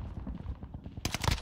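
Gunfire in the Call of Duty Warzone video game, a wall-bang shot on Fortune's Keep, cracks out as a sharp burst near the end after a stretch of muffled rumbling game noise.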